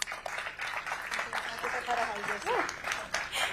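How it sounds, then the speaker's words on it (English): A crowd claps steadily at moderate volume while a few people call out and cheer over the applause. "I want to give every single one of you a big round of applause."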